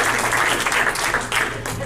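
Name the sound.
audience round of applause at comedy show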